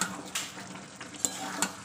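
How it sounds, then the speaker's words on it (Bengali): Chicken curry with kewra water being stirred in a pan, a soft sizzle with a few scraping strokes of the spoon at an even pace, close and fairly quiet, no voices. "কেওড়া জলটা অ্যাড করার পরে একটু ভালো করে নাড়াচাড়া করে দিতে হবে"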